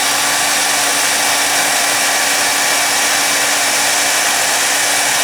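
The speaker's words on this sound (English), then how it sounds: "I thought I'd come out here with a hairdryer and try to warm up this clock" A hair dryer blows steadily at close range outdoors in freezing weather, warming a 1964 Dodge Polara's mechanical clock, a loud continuous whooshing with an even motor hum and no pauses.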